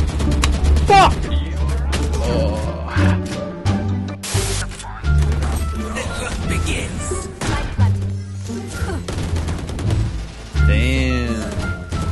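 Gunfire in the tactical shooter Valorant: repeated sharp shots and bursts scattered through a busy match, mixed with game music and effects, while players talk over the action.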